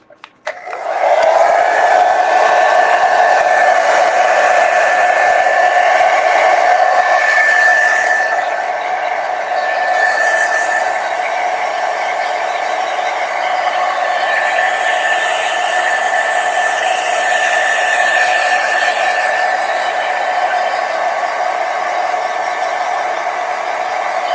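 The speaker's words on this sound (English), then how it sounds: "I'm just going to blow dry, so to dry it quickly" A hair dryer blows steadily to dry a watercolor painting, a loud continuous whooshing roar with a whining tone that starts abruptly and runs throughout, easing slightly partway through.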